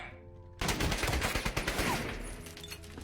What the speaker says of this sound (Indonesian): Stiglitz yang kesal akan tindakannya menembak Dieter hingga aksi tembak-menembak pun terjadi di tempat itu.